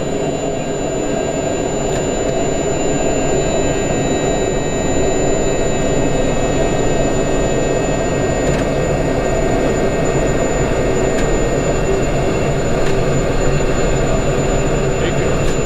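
The jet engines of a 1976 ex-Braniff Boeing 727 are heard from the cockpit as they run up toward takeoff thrust. A loud, steady roar carries a high whine and tonal hum that stays sustained and constant throughout.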